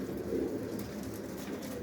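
Soft, low pigeon cooing murmurs steadily throughout, a close, continuous throaty rumble with no talking.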